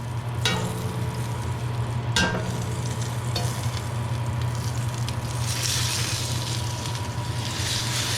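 Pot roast sears in a hot pan, a steady loud sizzle with a low hum running underneath and a couple of sharp scrapes or clinks along the way.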